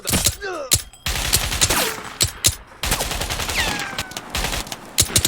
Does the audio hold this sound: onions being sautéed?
no